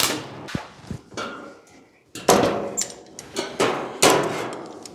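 A slapper hammer strikes hand-built steel hood panels for a 1940 Ford-inspired hardtop coupe, giving several loud, close, ringing metallic whacks at uneven intervals over a low workshop hum.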